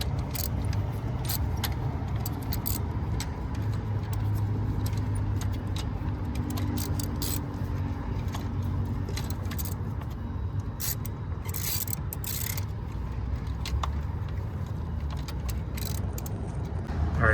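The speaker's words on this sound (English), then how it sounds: "So now it's time for us to go ahead and tighten the spark plugs." Metallic ratcheting and clinking of a wrench tightening spark plugs in the engine bay of a 2015 Kia Optima, a continuous run of close jangly clicks and scrapes over a faint low hum, no voices.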